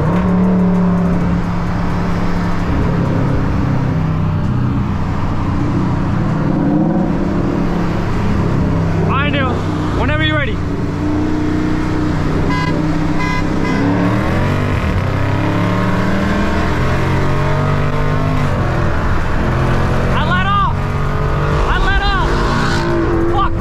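A Ford Mustang 5.0 and a widebody Dodge Scat Pack accelerate side by side in a roll race, heard from inside one car as a loud, steady engine roar that swells and drones throughout, with voices talking over it.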